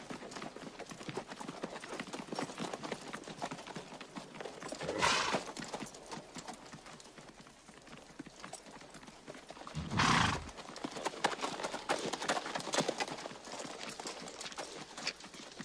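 Horses in a movie scene give rhythmic hoof clip-clops, with two loud surging bursts of hoofbeats passing close amid the ongoing clatter.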